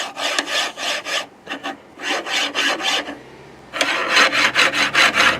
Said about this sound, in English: You hear all that grinding?